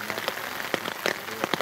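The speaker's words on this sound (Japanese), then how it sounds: "もう雨がすごい。" Heavy rain pours down outdoors at night in a forest, a dense steady hiss broken by sharp irregular drops spattering close to the microphone, with no voices.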